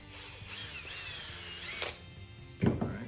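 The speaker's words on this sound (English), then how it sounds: "You notice I kind of drilled a little bit of an angle." A power drill whines as it bores slowly at an angle into a PVC pole for a DIY snare, with a steady rising motor pitch for over a second before it stops, then a few clunks.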